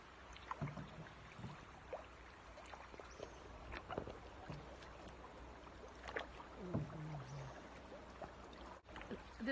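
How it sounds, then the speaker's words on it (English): A small boat moves along the Macal River. Soft water sloshes and trickles against the hull, with occasional knocks and splashes, all fairly quiet and without voices. "This is the Macal River."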